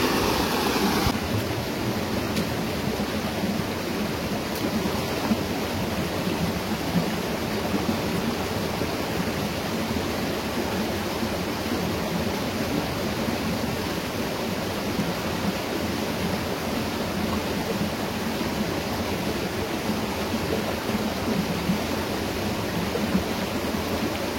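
A mountain river flows on a trail through the Leuser mountains, a steady, dense rushing roar that continues evenly without pause.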